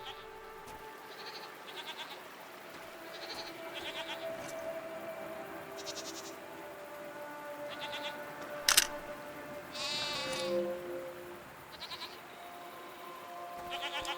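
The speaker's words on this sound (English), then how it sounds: "What are these strange goat-like creatures? Are they simply goats?" Goat-like creatures in the video game SEASON: A letter to the future bleat repeatedly in short separate calls over a soft ambient game backdrop, with one sharp louder blip midway.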